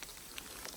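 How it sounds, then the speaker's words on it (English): Hail falling on a hiking trail out of Stehekin while sheltering under a tree, heard as a faint, steady patter with a few scattered sharper ticks. "it's hailing right now"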